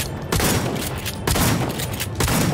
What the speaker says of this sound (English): gotta use the shotgun here.